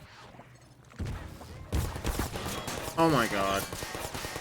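Automated turret guns fire on zombies in Half-Life 2: Episode 2: rapid bursts of gunfire build in loudness and rattle on, while a man exclaims over the shooting.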